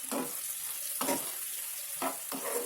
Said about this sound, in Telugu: 5 నిమిషాల తర్వాత మళ్ళీ ఒకసారి కలుపుకోవాలి.